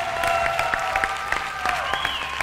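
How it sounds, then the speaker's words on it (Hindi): Studio audience at a TV cash-prize game show applauding, a steady wash of clapping with sharper individual claps and a faint tonal sound running underneath. "बहुत सारी तालियां होनी चाहिए भाई।"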